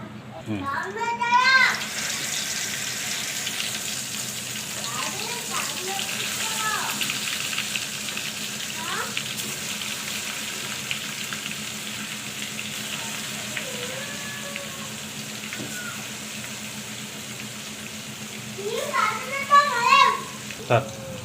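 Mrigasira fish fry in hot oil with a steady low sizzle running the whole time, while people talk and children's voices come and go over it.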